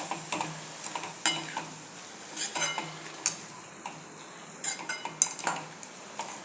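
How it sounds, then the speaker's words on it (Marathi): Spinach sautéed briefly in oil in a pan for palak puri, with a utensil repeatedly tapping and scraping the metal in quick irregular clicks over a soft steady sizzle, close up and with no voices. "असं थोडं एक अर्धा एक मिनिट नुसतं असं परतून घ्यायचं याला तेलात"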